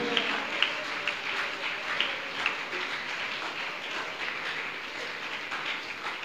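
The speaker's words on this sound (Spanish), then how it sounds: "Dele ese aplauso a Él en esta mañana" A church congregation applauds together during a morning service, a steady, dense wash of many hands clapping at moderate distance with a few sharper claps standing out.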